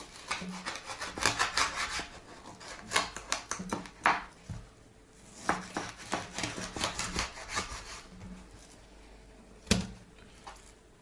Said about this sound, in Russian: Сейчас разрежу здесь. Есть с чешуей, со шкурой